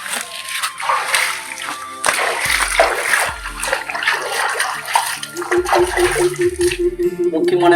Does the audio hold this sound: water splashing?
yes